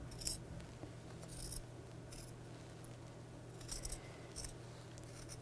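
Scissors snip through a mask in a series of short, quiet cuts, brief crisp bursts spaced irregularly over a faint steady hum.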